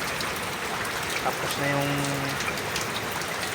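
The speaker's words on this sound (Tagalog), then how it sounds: "Lakas ng ulan dito ngayon sa San Rafael." Heavy rain pours steadily on surfaces in San Rafael, a dense continuous hiss with voices talking over it.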